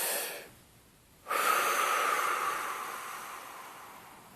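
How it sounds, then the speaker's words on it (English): A deep breath drawn in close to the microphone, a short exhale, a brief hush, then a long airy inhalation that slowly fades, with no speech. "Hold your wrist, take a deep breath."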